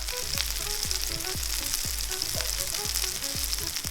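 Picanha sears in a hot pan with a steady, close sizzle and crackle, while soft rhythmic low thumps repeat beneath it throughout; no talking.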